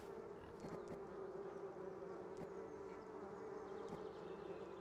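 Bees buzzing in the farming video game Farmer's Life, a soft continuous drone with faint overlapping wingbeat whine and no voices.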